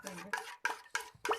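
A spoon scrapes and clinks around a bowl of yogurt in five short bursts of stirring while making potato raita, close up, with brief pauses between strokes.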